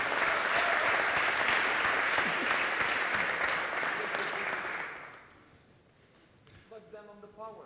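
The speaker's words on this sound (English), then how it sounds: "give all of them a huge applause for setting all this up" Audience applause at a JavaScript conference talk on robotics, sustained loud clapping from a large crowd for about five seconds before tapering off, after which a voice begins speaking.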